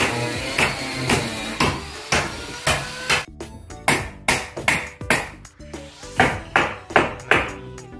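Concrete nails are hammered into a ceiling frame during a plafon installation, with a run of sharp, ringing hammer strikes in a steady rhythm, close and fairly loud, with brief pauses between groups of blows.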